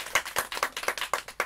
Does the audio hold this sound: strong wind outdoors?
no